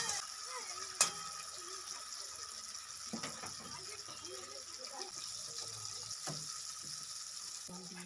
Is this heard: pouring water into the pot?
yes